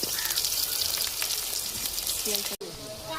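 Chopped onion frying in hot oil in a pan for chicken biryani gives a steady, close crackling sizzle throughout, broken by a brief dropout near the end.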